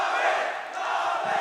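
A large arena crowd at a Counter-Strike esports tournament roars and cheers steadily, a dense sustained wash of many voices that dips slightly midway and swells again.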